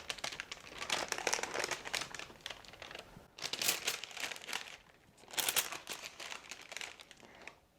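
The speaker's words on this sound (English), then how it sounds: "Grab your bread by the corners of your parchment." Parchment paper crinkles in three short rustling bursts as a whole wheat no-knead loaf is lifted by its corners toward a Dutch oven, soft and close with no talking.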